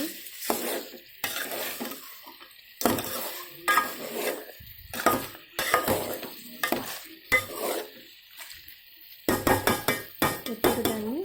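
A spoon stirs spicy mutton curry with added salt in a pan, making repeated scraping and clattering strokes against the metal over a soft sizzle, close and rhythmic with short pauses between stirs.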